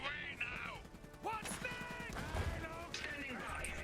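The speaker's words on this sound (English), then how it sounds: "he's getting murdered by a field cannon of all things" A field cannon fires during an Iron Harvest battle, its reports mixed with scattered gunfire, whizzing effects and game sounds in a busy combat mix.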